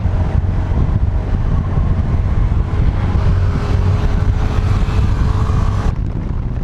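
Strong, constant wind buffets the microphone while riding a Honda Navi motorcycle, with a loud low rumble and the engine droning underneath throughout.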